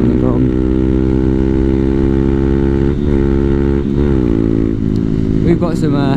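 A Honda Grom motorcycle being ridden, its small engine a loud, close buzzing drone with several gear-shift dips and rising revs, a voice talking over it.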